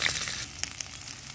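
Bitter gourd frying in a pan, a steady soft sizzle with a few faint crackles and pops, close and low.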